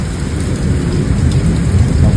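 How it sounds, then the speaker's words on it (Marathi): A downpour in a thunderstorm roars close and loud, a constant dense wash of rain over a low rumbling undertone, with no one speaking. "खतरनाक पाऊस आहे"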